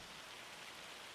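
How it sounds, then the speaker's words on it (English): Steady, soft rain hissing evenly on surfaces in the farming video game Farming Simulator 25, faint and continuous with no voices. "Rain. Go away, rain."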